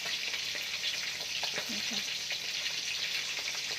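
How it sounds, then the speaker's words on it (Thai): Food frying in hot oil until crispy while a Thai sour curry is being made, giving a loud, continuous sizzle and crackle with faint clinks, steady throughout. "ทอดให้เขากรอบนะคะ กรอบเลยค่ะ"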